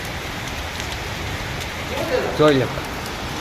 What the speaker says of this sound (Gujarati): બહાર વરસાદ આવે છે